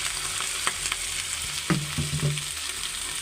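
Noodles sizzle in a hot pan with fried egg as they are stirred, a steady frying hiss broken by a few scraping clicks and knocks.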